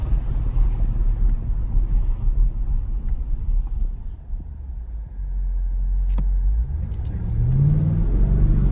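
A 2020 BMW M850xi Gran Coupe engine rumbling low and steady, easing off briefly and then rising in pitch as it revs up again toward the end.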